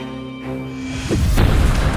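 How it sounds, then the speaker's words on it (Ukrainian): A single heavy artillery gun shot booms in mid-clip, followed by a rumbling, crackling tail that fills the low end, over a steady background hum. "Увага, постріл."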